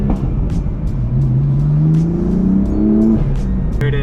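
A 500 HP 2015 BMW M4 with a six-speed manual pulls hard, its engine note rising steadily in pitch under constant loud road and intake roar, then dropping sharply at a gear change near the end.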